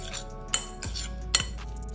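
A spoon clinks against a bowl while mixing sandwich filling with cream, three or four sharp metallic taps over soft scraping, close and fairly quiet.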